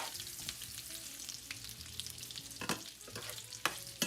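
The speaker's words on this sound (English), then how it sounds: "So I'm going to put my microwave potatoes in the pan." Microwaved potatoes fry with butter in a pan, a steady close sizzle broken by sharper scraping and tossing bursts.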